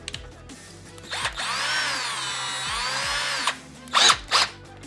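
A Bauer 20V Hypermax lithium cordless drill with a 1/4 inch bit whirs up and bores into material for a couple of seconds, then gives short bursts near the end, loud and close with no speech.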